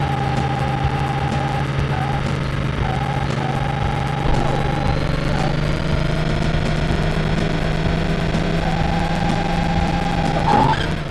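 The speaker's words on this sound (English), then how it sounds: "Oh, we spun out." A race car spins out in a Super Nintendo racing game, with a steady synthesized engine drone and repeating electronic tones running throughout and a brief sharper burst near the end.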